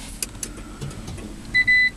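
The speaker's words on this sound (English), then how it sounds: "There we are, the car is running." Starting a Toyota Prius T Spirit brings a few quiet clicks and switch sounds, then a clear electronic beep tone as the hybrid powers on, with no engine roar.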